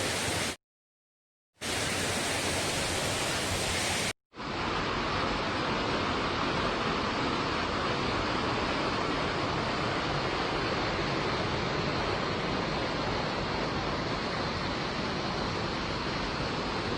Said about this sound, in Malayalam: ഇവിടെ നിന്നാണ് ഈ ഒരു വെള്ളം ഒഴുകി താഴോട്ട് വരുന്നത്.